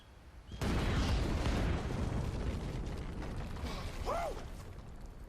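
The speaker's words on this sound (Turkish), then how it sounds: "tamam ben patlatacağım. Köprü orada zaten. Patlat hadi." A bridge blows up in Red Dead Redemption 2, a sudden loud boom followed by a rumbling, crackling aftermath that slowly fades, with a brief tonal game sound near the end.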